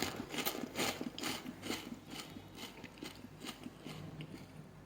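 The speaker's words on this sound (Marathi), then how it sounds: "आता खाऊन देखील दाखवतो आवाज" Close, crisp crunching as roasted (not fried) poha chivda, a Diwali snack, is eaten, with a steady series of crunchy bites over a few seconds and no talking.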